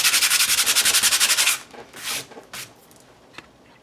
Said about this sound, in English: I'm just going to bring some sandpaper in and scuff it up a little bit.